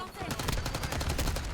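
Rapid bursts of automatic gunfire fill a short stretch of a French-language video game shooter, with dense repeated shots, loud and close, under a faint background.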